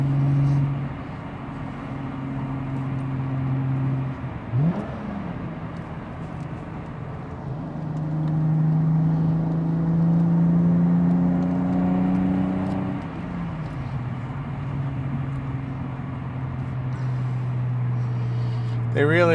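A 2003 Aston Martin DB7 Vantage Zagato coupe cruises along a twisty road, heard from inside the cabin. A steady engine drone rises and falls with gear changes and throttle, with mild revving, and road noise continues underneath.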